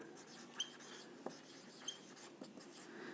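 Chalk or marker writing on a board during a Class 11 physics lecture on viscosity, heard as a steady scratchy stroke with a few sharp taps over three seconds, close and fairly quiet, with no talking.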